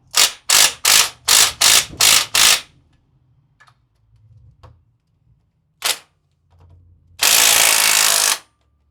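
A hand ratchet clicks loudly in a quick series of seven strokes while loosening bolts on the front differential of an OKA 251, followed by a few faint knocks, one more stroke and a longer rapid ratcheting burst.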